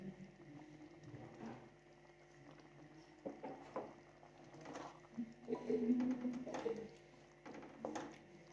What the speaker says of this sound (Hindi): ऑयल डाल डाल के हम इसकी भुनाई करेंगे।